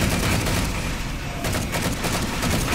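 Heavy gunfire from a large enemy ship in the Halo 4 video game, a dense continuous barrage of loud, overlapping shots and blasts filling the whole stretch.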